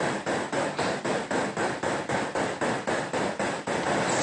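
A synthesized snare drum built in Reaper plays as a fast, steady loop of about sixteen harsh, noisy hits at an even tempo, loud and abrasive with no other sounds.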